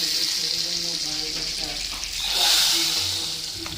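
Hot tadka poured into cooked chana dal gives a continuous sizzle and bubbling hiss that swells briefly in the middle, with faint kitchen clatter underneath.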